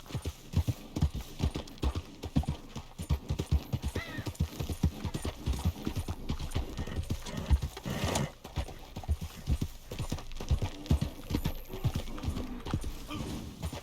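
A horse in the Red Dead Redemption 2 video game clip-clops along in a quick, steady hoof rhythm, close and clear, with a brief neigh partway through and no talking.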